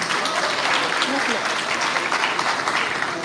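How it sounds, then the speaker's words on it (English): Audience at a school prize giving ceremony applauds, a dense steady wash of clapping throughout with a few voices mixed in. "Yes, please applaud."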